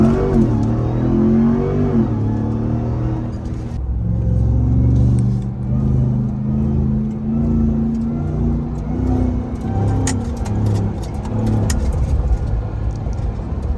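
A supercharged Ram TRX truck engine revs up under acceleration, its deep rumble joined by a rising supercharger whine that swells and settles, heard from inside the cab at night.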